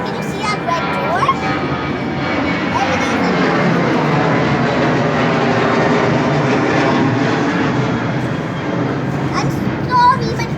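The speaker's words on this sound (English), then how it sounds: "all that distraction was caused by this aeroplane" A fixed-wing aeroplane passes over a rooftop garden, its steady engine roar filling the whole stretch at a loud, even level, with faint background sounds on top.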